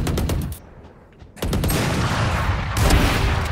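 Gunfire and an explosive burst in the tactical shooter Valorant on the Bind map: a loud crackling volley, a brief quieter gap, then a sustained dense roar of shots and blast noise close up.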